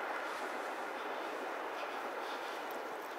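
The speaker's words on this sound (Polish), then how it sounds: "Pięknie słychać pociąg." A passing train near railway tracks in a forest makes a steady, moderately distant broadband rumble that holds evenly throughout, with no talk over it.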